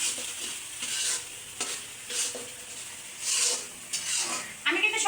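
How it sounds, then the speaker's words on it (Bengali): Spice paste is stirred and fried in oil for a village-style koi fish and radish curry, with soft sizzling swelling in repeated waves as a spatula scrapes the pan, close and moderately quiet. "এখন কিন্তু মশলাটা খুব ভালো করে আগে কষিয়ে নেব"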